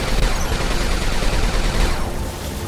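Robot cannon fire in the game War Robots roars in a dense, continuous barrage of loud rapid blasts, easing slightly toward the end.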